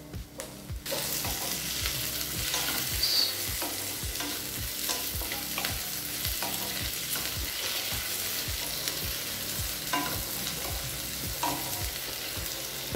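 Tomatoes frying in oil with ginger and garlic in a pan for tomato biryani, a steady close sizzle under regular scraping stirs, with no voices.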